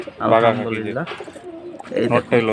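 High-flying Giribaz pigeons give short, close, throaty coos in a brief burst, with a pause before a few more rough calls.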